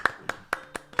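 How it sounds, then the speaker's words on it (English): Five sharp hand claps at an even, steady pace, fairly close and clear, with a faint murmur of room noise between them. "Let's get a round of applause for the winner."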